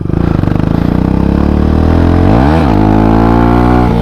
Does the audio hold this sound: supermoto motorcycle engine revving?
yes